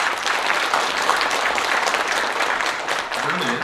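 Steady, dense applause from a ceremony audience at the 106th anniversary commemoration of the Korean Declaration of Independence, welcoming the Liberation Association president; the clapping holds at an even, full level throughout without a break.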